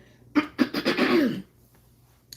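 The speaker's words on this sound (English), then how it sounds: "So I have to clear my throat." A few raspy throat-clearing bursts in close succession, close to the mic, followed by a quiet pause.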